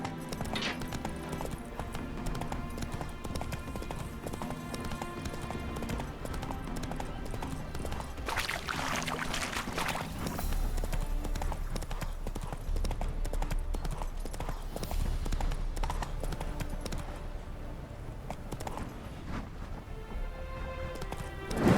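Steady clip-clopping of horse hooves from The Witcher 3: Hearts of Stone runs throughout over a dense bed of music and ambience, moderately loud and continuous.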